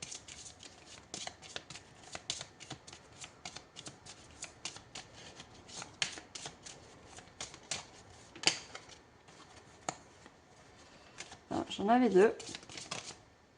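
A deck of major arcana tarot cards is shuffled near the mic in quick, light riffles and taps, with a quiet voice speaking briefly and a louder handling flurry near the end.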